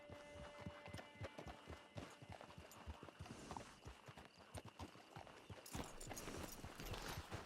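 Horse hooves clip-clop steadily in Red Dead Online, a regular close rhythm of hoofbeats over ambient game sound, growing busier and louder toward the end.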